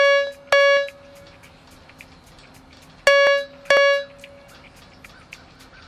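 A digester paging alarm at a water pollution control plant sounds as two pairs of loud, bright electronic tones, each pair a quick double chime with a pause between, alone and clear.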